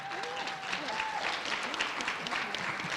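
Steady applause from an audience at a middle school literacy competition fills the room, many hands clapping at once, with a voice speaking faintly underneath.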